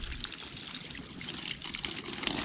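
Rain-harvesting tank overflow with a screened outlet that is starting to clog, letting water trickle and splash steadily outdoors, a continuous watery hiss with small bright drips throughout.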